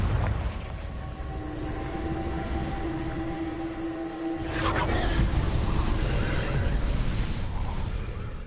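A Confringo spell from Hogwarts Legacy erupts as a deep booming blast with a long rumbling tail, a lingering tone fading before a second loud burst swells up and rolls on.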